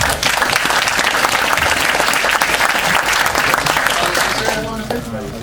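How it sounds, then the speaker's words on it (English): Loud, dense audience applause at a technology conference welcoming a speaker to the stage, sustained close crowd clapping that tapers near the end as a voice begins talking. "Warm round of applause for him."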